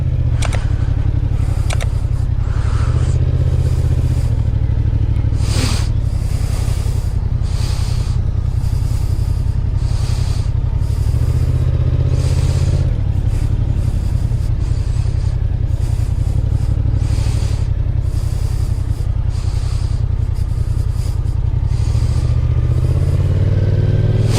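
A motorcycle rides over a dip on a licence-exam course, its engine a loud, close, continuous drone with occasional clattering and rattling as it bumps along.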